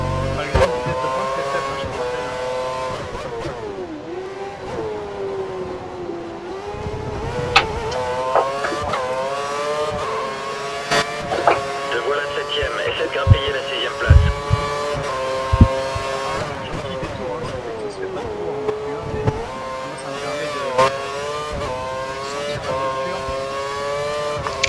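A weak-engined Formula 1 car from F1 2013 races through qualifying at the Indian circuit. Its high, steady engine whine rises and falls with gear shifts throughout, with occasional thumps and brief tire noise.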